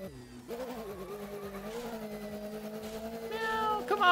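A cat meows in the XMODULE racing video game, a brief sustained cry rising near the end over a steady engine drone and tire sounds.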